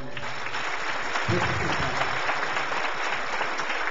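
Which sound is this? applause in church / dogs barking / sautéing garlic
applause in church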